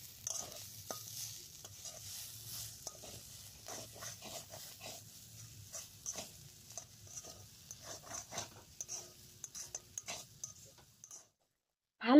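Momo filling with cumin powder is stirred and fried in a pan, giving a quiet sizzle with irregular scraping and tapping that grows busier, then falls silent before a sudden loud noise at the very end.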